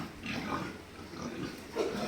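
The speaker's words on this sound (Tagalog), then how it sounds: "Ayan, so ang dami pong baboy." Pigs in crowded farm pens grunt and snort continuously, a dense mass of low calls close by with a squeal near the end.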